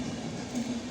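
An Indian Railways train passes at a distance, heard as a faint, steady rumble with a low hum that lasts the whole brief moment.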